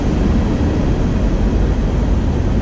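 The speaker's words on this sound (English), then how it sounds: "Sure you can hear the train running by." A steady, loud low rumble of a train running past, heard inside an abandoned factory, with a broad roaring noise that holds constant for a few seconds.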